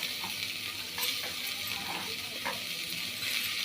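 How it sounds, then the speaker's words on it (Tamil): Tomatoes and onions sautéing in a pan of oil, a steady close sizzle with soft stirring scrapes recurring every second or so. "தக்காளியும் போட்டு நல்லா வதக்குறோம்"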